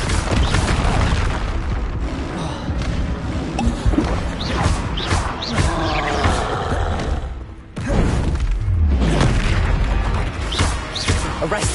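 Confringo fire spells blasting in Hogwarts Legacy combat: a continuous, loud barrage of heavy booms and rumbling impacts, with a brief dip before the explosions resume.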